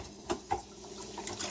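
Tap water runs into a kitchen sink, a faint steady trickle with a few soft splashes and drips, heard close with no talking.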